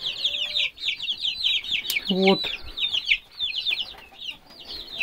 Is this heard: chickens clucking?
yes